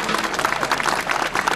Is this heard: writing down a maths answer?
no